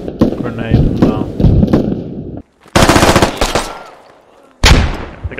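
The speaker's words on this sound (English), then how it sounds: "oh, grenade" Gunfire and explosions in a Squad firefight between US Army soldiers and insurgents in Afghanistan: dense rapid shots, a sudden loud blast near the middle that decays into a rumbling tail, then another sharp burst, with voices underneath.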